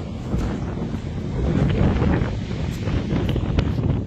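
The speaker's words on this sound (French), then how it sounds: "Je suis désolé pour le vent." Gusting storm wind on the coast at Cádiz, Spain blasts steadily against the microphone, loud and rumbling, with faint crashing waves and spray beneath it.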